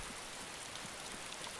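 Rain falls in the survival video game DayZ as a faint, even wash of steady pattering with no distinct drops standing out and no speech.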